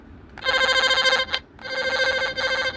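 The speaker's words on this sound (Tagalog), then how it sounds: "Kailangan pag pinindot ko itong kanyang tone probe," A line tracer's tone probe, its tone suspected to be weak from a low battery, emits a warbling, ringtone-like electronic trill in two close bursts separated by a brief break.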